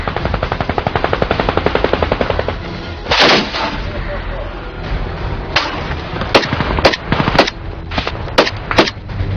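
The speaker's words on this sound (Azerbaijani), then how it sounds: "Düşmən dərhal cavab atəşi ilə susturulur." Gunfire traded across a front line during a ceasefire violation, with a dense rapid burst of automatic fire at first, then a heavy blast and several sharp, loud single shots spaced apart over a low rumbling background.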